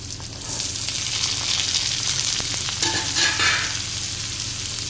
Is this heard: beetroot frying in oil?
yes